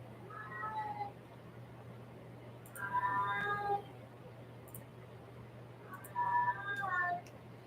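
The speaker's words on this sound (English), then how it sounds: "Baby kittens." Baby kittens meow three times in short, high, wavering bursts spaced a few seconds apart, set against a low steady electrical hum with no talking.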